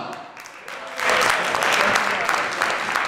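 At the Miss Ebony Swiss 2013 pageant, a presenter's voice is followed by the audience breaking into loud, sustained applause for the jury, a thick, even roar of clapping that holds to the end.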